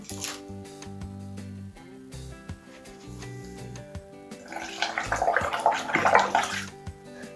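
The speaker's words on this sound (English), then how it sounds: "We're going to pop the boat in some water." A small craft toy boat splashes and sloshes in water for a few seconds, with light background music playing throughout.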